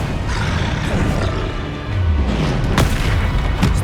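Confringo blasting curse in Hogwarts Legacy, heard as deep booming blasts and rumbling impacts. They land in close succession over a dense, roaring game soundscape, with no speech.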